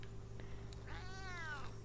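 A single drawn-out cat meow from the video game Memoranda rises and falls over a low steady background hum, fairly soft and close.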